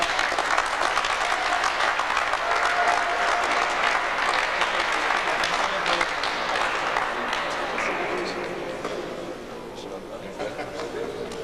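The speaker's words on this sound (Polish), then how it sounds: "Na koniec duże brawa dla organizatorów tego turnieju." Applause at a karate tournament for the organizers and teams: a crowd claps steadily and loudly for several seconds with chatter mixed in, then the clapping gradually thins and fades toward the end.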